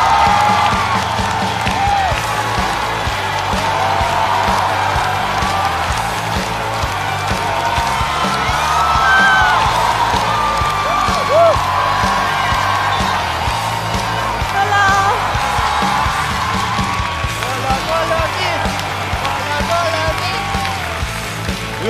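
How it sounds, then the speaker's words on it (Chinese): A large studio audience at a stand-up comedy show claps and cheers continuously, with whoops and shouts rising and falling over sustained applause throughout. "让我们掌声欢迎"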